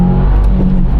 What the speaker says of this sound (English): So look, second gear, you floor it.